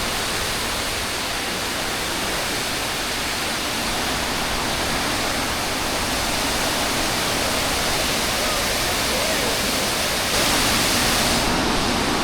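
Rushing river swollen with snowmelt pours in a loud, unbroken torrent of broadband water noise that holds steady throughout.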